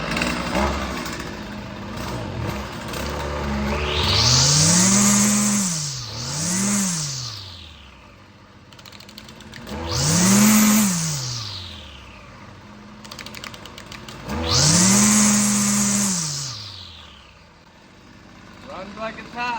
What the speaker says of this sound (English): Well, we got this FS55 back up and running.